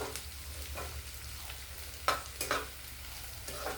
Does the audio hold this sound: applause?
no